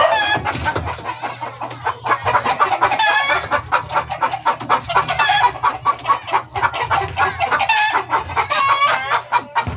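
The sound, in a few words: pullet hen clucking after laying her first egg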